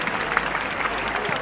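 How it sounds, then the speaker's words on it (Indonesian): A concert audience at a show gives a dense, steady patter of applause. It sounds fairly soft and muffled, and a voice carries over it. "kasih tepuk tangan buat semua yang di sini"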